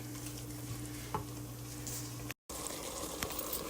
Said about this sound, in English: It is sizzling and bubbling pretty fast.